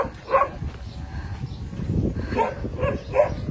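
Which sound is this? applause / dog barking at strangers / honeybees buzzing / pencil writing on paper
dog barking at strangers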